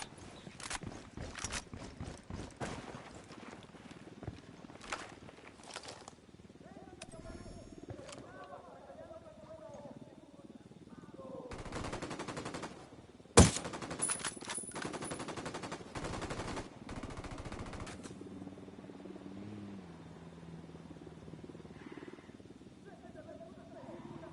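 Gunfire in Ghost Recon Wildlands amid a firefight against a sniper, with a helicopter involved: bursts of shots crackling through a busy battle mix, one sharp loud crack standing out midway, with voices talking over parts of it.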